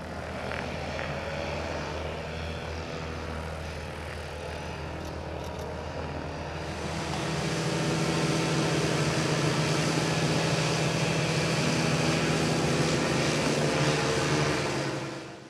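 Paramotors from a paramotoring school fly overhead at an airfield air show in Vilafranca del Penedès, a steady propeller engine drone that swells louder and fuller midway through and holds there, with no talk.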